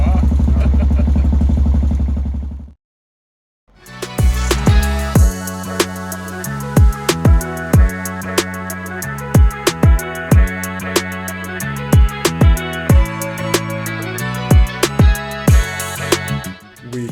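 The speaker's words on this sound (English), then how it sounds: "that didn't stop Radić from revving up a 4-cylinder like a true favela racing from Brazil." A four-cylinder motorcycle engine is revved repeatedly on a Serbian moto trip, sharp throttle blips rising and falling in quick succession after a steady running drone and a brief pause, close and loud.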